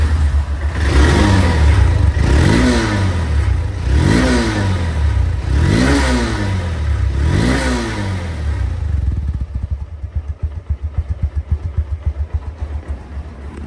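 A used Honda Hornet CBS motorcycle engine revs up and down in five rising bursts, then settles into a steady, close idle with a rapid chugging beat.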